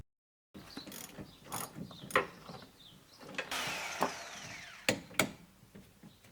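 A ratchet tightens the nut on a front coupling rod of a BMW E90. Close, crisp clicks come in short irregular bursts, mixed with metallic scraping and handling noise.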